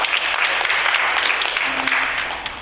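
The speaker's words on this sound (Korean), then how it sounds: "수고하셨다고 우리 박수 한번" A church congregation claps together in sustained applause, a dense even patter of many hands that carries on steadily before tapering slightly at the end.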